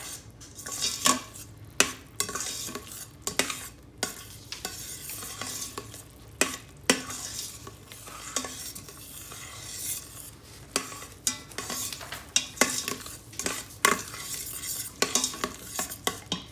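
Beef tips sizzle in a pan for smothered beef tips, a constant frying hiss broken by frequent sharp clinks and scrapes of a utensil against the pan, with no speech.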